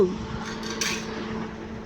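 Pots and dishes are washed outdoors, giving a single brief metallic clatter against a steady low background hum.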